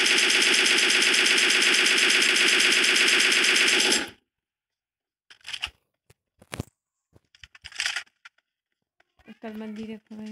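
Rapid automatic gunfire in a mobile shooter game, a loud dense burst lasting about four seconds, then silence broken by a few short clicks and scattered game sounds, with a voice speaking briefly near the end.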